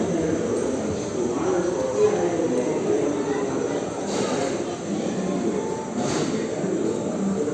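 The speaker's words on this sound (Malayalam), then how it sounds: "അങ്ങനെ നമ്മൾ സൗത്ത് റെയിൽവേ സ്റ്റേഷനിൽ എത്തിയിട്ടോ" Trains rumble at a railway station, a steady mechanical roar with faint squeals, under a broad wash of station noise.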